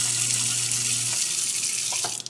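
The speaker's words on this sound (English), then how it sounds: "this is the InSinkErator Compact P that I just installed" InSinkErator Compact P garbage disposal, newly installed, running with water flowing into the sink: a steady low motor hum under a hissing water rush that cuts out near the end, leaving a few drips, close and loud.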